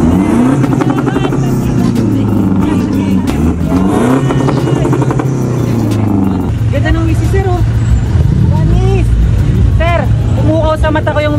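Diesel engine of a stock Toyota Fortuner revving on a dyno, loud sustained droning with rising and falling pitch sweeps as it climbs through the revs, while people talk over it.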